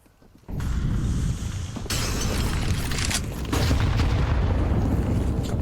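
Grenades bursting in a Counter-Strike 2 match at a professional esports final, heavy booming blasts that fill the clip loudly after a short quiet start, with a fresh burst near the two-second mark and sustained rumble throughout.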